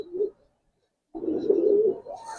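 Giribaz pigeons cooing: a short low coo, a pause of near silence, then a longer, louder rolling coo with faint higher chirps at the end, close by.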